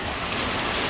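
Rain and strong wind of Typhoon Paeng in Rizal during a blackout form a dense, loud, unbroken rushing hiss with no voices.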